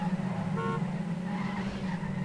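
Race car in a racing game sliding out of a corner: a steady, loud engine drone with tyre skid noise running throughout and no distinct crash impact.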